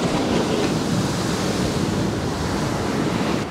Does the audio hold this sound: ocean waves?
yes